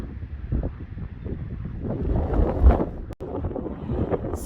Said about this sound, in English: Sorry about the wind, but just had to capture their beautiful rainbow.